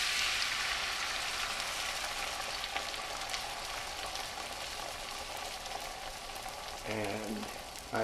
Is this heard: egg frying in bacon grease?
yes